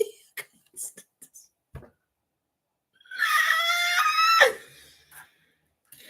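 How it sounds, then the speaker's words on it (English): A woman's drawn-out scream of pain in an audio drama rings out for over a second, loud and close, after quiet scattered small noises and ticks. "That was a scream of pain"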